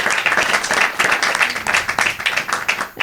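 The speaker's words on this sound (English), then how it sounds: "So give yourselves a big round of applause as well." Applause fills a program held by ISKCON Phoenix Nama Hatta, dense clapping from a hall audience running steadily throughout at moderate loudness, with no voices above it.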